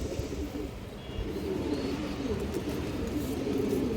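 Male pigeon with a green neck and black tail, restless and lively, cooing softly amid a steady murmur of other birds, with continuous low background noise throughout.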